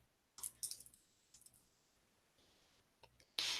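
Computer keyboard keys click in short, quiet clusters separated by brief pauses, ending with a sharper burst of taps.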